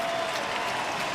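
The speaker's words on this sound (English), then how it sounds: "Crowd's into it now." A stadium crowd at the 2007 Hawaii Bowl college football game between Boise State and East Carolina claps and cheers in a continuous, diffuse roar, heard faintly from a distance.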